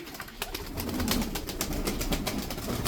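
Tumbler pigeons, including a calm young bird, give soft cooing and fluttering that runs steadily and fairly close for a few seconds, with no voices.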